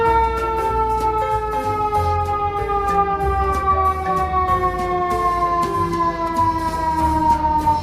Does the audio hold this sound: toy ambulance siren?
yes